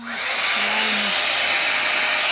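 A SOROSE 5-in-1 hair dryer blows with a loud, steady airy roar that rises over the first moment and then holds constant, with a brief low whine near the start.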